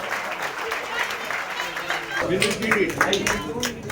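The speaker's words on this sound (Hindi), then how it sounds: "जोरदार तालियां" An audience at a charity aid distribution event applauds, the clapping swelling into a fuller, louder burst of many hands partway through, mixed with voices.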